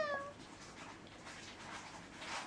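A single short cat meow at the start, faint and brief, followed by quiet room noise.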